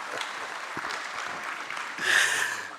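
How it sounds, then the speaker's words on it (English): Audience applause at a national transport conference, a steady wash of clapping that swells louder near the end with a faint voice underneath. "A round of applause for me, please."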